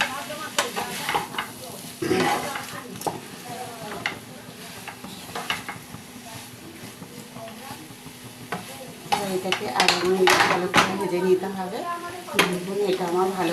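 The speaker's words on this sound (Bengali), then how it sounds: "পাঁচ মিনিটখানে ভালো করে নাড়াচাড়া করে নেব" Paneer being stirred and fried in a pan for a restaurant-style curry made without onion or garlic, with repeated scraping and clinking of a spoon and a continuous sizzle, while a person talks over it.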